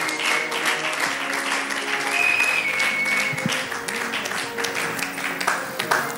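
An audience at a Bible school graduation ceremony claps continuously, a full room of steady applause for several seconds, with faint voices mixed in.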